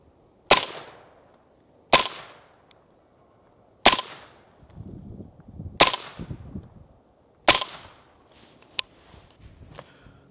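Five sharp, loud 5.56 rifle shots fired through an AAC AB A10 suppressor, spaced a second or two apart, each a hard crack with a short decaying tail, plus faint shuffling and handling noises between shots.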